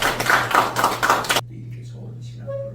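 An audience at a theology professors' forum claps briefly, a loud ragged burst that stops abruptly and gives way to a quiet room with a steady low hum and faint sounds.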